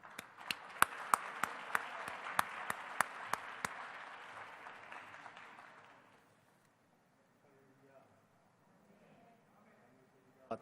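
A congregation at a large pastors' repentance and fasting prayer assembly greets the speaker with applause, loud sharp hand claps over a crowd roar for about five seconds before it fades out, with a faint voice afterward.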